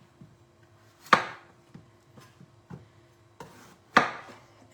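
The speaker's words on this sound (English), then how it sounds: "So I'm going to cut my peppers into quarters." A knife chopping peppers into quarters on a board, a few sharp, irregular thuds with two heavier cuts standing out and softer taps between, close and clear without talk.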